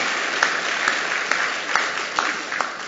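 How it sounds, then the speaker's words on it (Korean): A church congregation claps together in steady applause at a Sunday morning service, with sharper individual claps standing out at a regular rhythm above the even wash of hands. "그렇게 해주실 우리 하나님께 박수로 감사하겠습니다"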